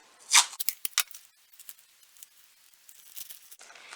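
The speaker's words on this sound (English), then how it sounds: "You want to take your Ziploc bag and apply the masking tape just like we did before." Masking tape torn from the roll and pressed onto a Ziploc bag, close and crisp: a loud rip, several quick sticky crackles, then softer patting and crinkling of plastic.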